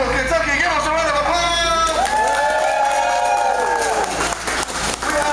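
A circus audience for the Blue Moon Circus of Louisville, Kentucky, erupts in applause, cheering and shouts, a dense, loud crowd roar that builds and holds under a ringmaster's amplified voice.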